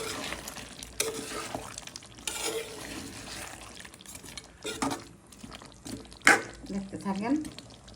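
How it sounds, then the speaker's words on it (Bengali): Chicken and potatoes are stir-fried together in a pan for a Bengali chicken and potato curry, with scraping spatula strokes and a soft, wet sizzle, close by and broken by bursts of talk. "এখন দিয়ে দিব আলুটা। আলু একসাথে কষিয়ে নিব।"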